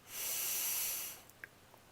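A person takes one long, deep breath in, a steady airy hiss lasting about a second before fading into quiet.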